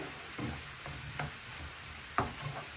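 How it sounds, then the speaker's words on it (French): Mushrooms fry in a pan over high heat with a soft, low sizzle, punctuated by a few light scrapes and taps as they are stirred, all fairly quiet with no one speaking. "Je vais même rajouter niveau feu, sur feu vif, pour bien faire dorer."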